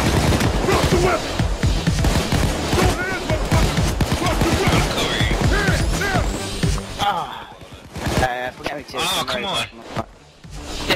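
Gunfire in Payday 2 during an airport heist, rapid bursts of shots and impacts crackling almost continuously under frequent shouting voices, thinning out near the end.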